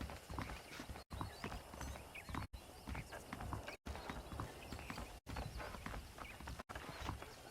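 Rhythmic clip-clop of horse hooves at a steady walking pace in Red Dead Redemption, close by, with faint background ambience and brief gaps.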